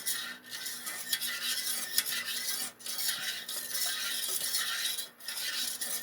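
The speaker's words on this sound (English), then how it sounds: "And you keep stirring it." A whitish homemade hand sanitizer mixture being stirred in a pan over heat, producing continuous scraping and swishing of a utensil against the metal, with a few brief pauses in the rhythm.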